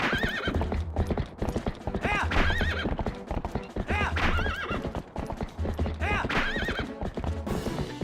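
On horseback in Zelda: Twilight Princess on the GameCube, hooves clip-clop in a fast, steady gallop while the horse whinnies again and again, loud and close.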